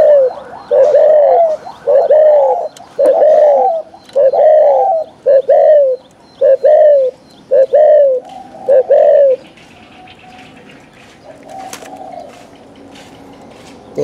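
A spotted dove coos loudly and close in a forest, a repeated series of about ten rhythmic coos before fading into quieter ambient bird chirps.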